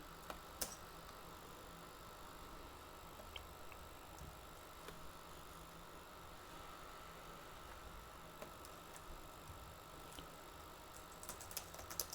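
Computer keyboard typing while copying and pasting Java code, a faint, sparse run of light key clicks and taps over a steady background hiss, with no voices.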